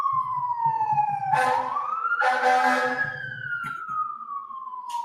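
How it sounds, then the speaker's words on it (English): Emergency vehicle sirens wailing outside a courtroom, a rising and falling tone that swells loud and close before easing off, with faint low murmuring indoors beneath it. "The interruption of the sirens is almost welcome."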